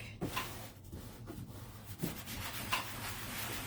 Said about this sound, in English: So I'm gonna like spend a little extra time smoothing it down to the letters.